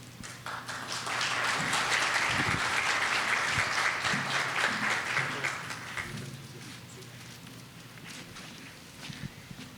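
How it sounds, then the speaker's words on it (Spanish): Audience applause after an academic talk on colon cancer, scattered claps swelling into a steady round and then thinning out toward the end. "la doctora Lisette Ruiz Barrios, para quien pedimos otro fuerte aplauso, por favor"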